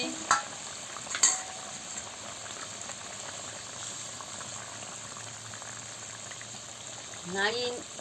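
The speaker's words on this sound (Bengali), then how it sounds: "এবার টক করে ফুটছে, আমি মাছটা দিয়ে দিচ্ছি। মাছটা দিয়ে ভালো করে ফুটিয়ে নিচ্ছি।" A silver carp fish curry boils in a pot, giving a steady, soft bubbling hiss throughout, with a couple of sharp clinks near the start and a brief voice near the end.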